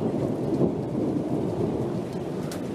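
Continuous thunder rumbles through a storm with rain and small hail falling, a steady, loud low roar that never lets up across the whole stretch, with no voices.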